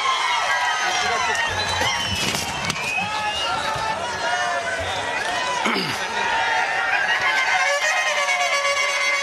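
A large crowd at an outdoor political campaign rally cheers and applauds loudly and continuously, with whistles and shouts rising over the roar throughout.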